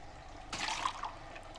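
Water trickles from a lysimeter along collecting pipes at a catchment study site, a brief, moderately loud rushing burst that rises abruptly and fades within about half a second, with no voices.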